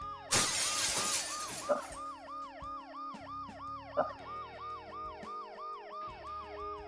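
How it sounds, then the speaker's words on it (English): Wailing ambulance siren in a video game, repeating its rising and falling cycle steadily and fairly loud, with glass shattering sharply near the start and two further brief crashing impacts partway through. "The noise the ambulance makes will cover the sound of the glass breaking."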